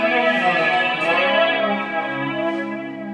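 Electric guitar through a Boss digital reverb pedal with the flanger-reverb 'flurb' setting maxed out, a sustained, shimmering chord swirling and smearing into a dense, funky wash.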